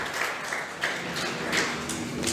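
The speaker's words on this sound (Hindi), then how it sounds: "जोरदार तालियां बजाइए इनके लिए।" Audience applause fills a room at a coaching institute's celebration honouring NEET-2020 medical entrance toppers. The clapping is steady and dense throughout, with no voices over it.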